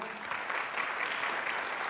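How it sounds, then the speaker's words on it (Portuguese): A church congregation claps steadily during a Portuguese-language worship service, the dense applause loud and even throughout with no voices over it. "mais uma vez aplauda ao Senhor"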